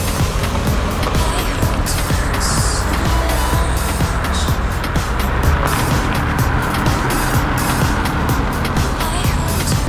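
A Hyundai Solaris engine roars steadily as the car accelerates hard in a speed test, with continuous road and wind noise throughout.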